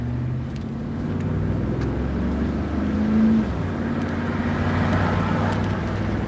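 A steady low engine rumble and road noise fill the cab of a crowded truck on the move, constant and fairly loud, with no one talking.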